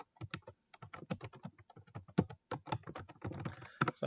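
Brisk typing on a computer keyboard while entering numbers into a spreadsheet, a close, dry run of rapid key clicks with brief pauses and a faster flurry near the end.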